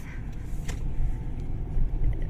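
A car drives along a road in Ukraine, heard from inside as a steady low engine and road rumble that holds even throughout, with no talking.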